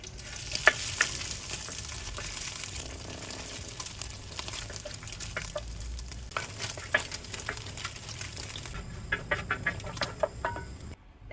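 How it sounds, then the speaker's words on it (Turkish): Sheep tail fat sizzles and crackles in a hot pan while being rendered down, with scattered pops and occasional stirring scrapes, steady throughout at close range. "Şimdi kuyruk yağımızı eriyinceye kadar kavuruyoruz."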